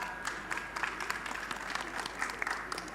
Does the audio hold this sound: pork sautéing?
no